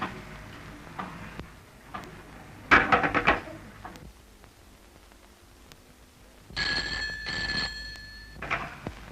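An old-fashioned telephone bell rings in two bursts, a short loud trill followed later by a longer steady ring, set in a quiet room with faint ticking between.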